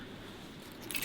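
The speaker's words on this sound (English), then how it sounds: "Got the keys." A quick metallic jingle of keys near a door, bright and close, coming in a short burst at the end over a quiet room.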